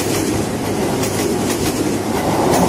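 The Fajar Utama Solo passenger train rolls into Yogyakarta station in Indonesia, a loud, close, continuous rumble of wheels on rails with faint clattering and no voices.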